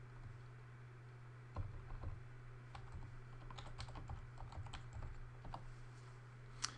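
Someone types a password on a computer keyboard in a quiet room, with soft, irregular key clicks in short bursts over a steady low electrical hum.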